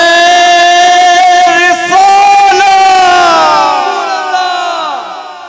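A crowd at a religious recital raises a loud, sustained chanted slogan in unison, voices swelling together and then slowly fading out.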